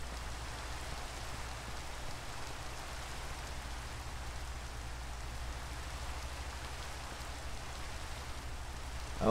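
Steady rain in Minecraft: an even, continuous hiss of falling drops that holds at a constant level throughout, with no voices.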